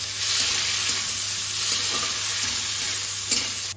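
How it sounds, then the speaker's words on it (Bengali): Tomatoes added to onions already browned in a kadai for chicken dopiyaza, with a steady, loud, close sizzle throughout and faint stirring, no talking. "টমেটো দিয়ে ভাজা করবো।"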